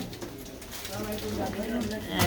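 Domestic pigeons coo softly and repeatedly at close range, low murmuring calls running under ongoing background talk and movement, with a brief louder burst near the end.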